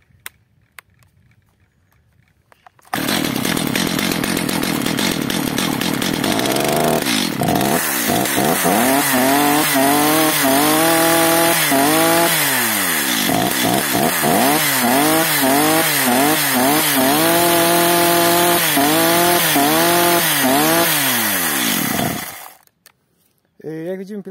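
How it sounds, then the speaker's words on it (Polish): Stihl MS 210/230/250 chainsaw running after a carburetor adjustment, the engine starting loud and close and revving up and down repeatedly for about twenty seconds before dying away abruptly. "Jak widzimy, pilarka pracuje lepiej"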